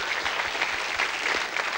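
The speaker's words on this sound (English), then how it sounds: "Give them a round of applause" Studio audience applause on a 1981 television game show, a steady dense wash of clapping from a crowd, loud and continuous without any voices over it.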